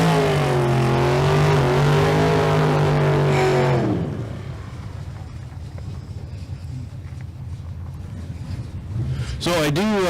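A 598 cubic inch big block drag car revs hard and loud for several seconds at a Street Car Super Nationals event in Las Vegas, then drops to a rough low idle rumble under wind noise before a brief rising rev at the end.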